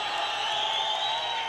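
At a boxing fight night between Nasrutullah Langari and Turkhan, a dense crowd roars and applauds in a continuous, loud wash of cheering with no breaks.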